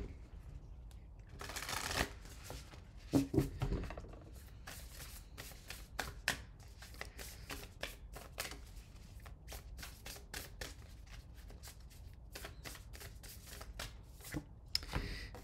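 A moon oracle card deck is shuffled by hand in repeated quick riffles and soft slaps, close and fairly quiet, with a brief speaking voice now and then.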